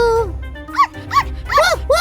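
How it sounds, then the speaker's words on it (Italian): A small puppy lets out a string of high, yipping barks, some doubled, close by in a children's scene, with a voice speaking over the start. "Che ha fatto uscire il cane?"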